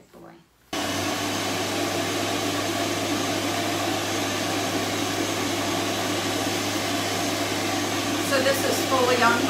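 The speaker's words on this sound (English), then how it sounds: "not very noisy for a dryer on high." A pet hair dryer for dogs switches on abruptly and then blows at its high setting, a steady, loud, even rush of air with a low hum beneath it that continues to the end.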